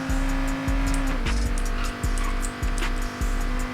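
Car in the Payday 2 game driving hard with loud engine drone and repeated sharp tire squeals and thumps every half second or so, close and continuous.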